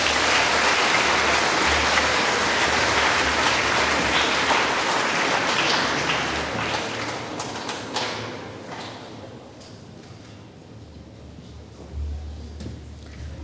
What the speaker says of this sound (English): a big round of applause and congratulations to both pupils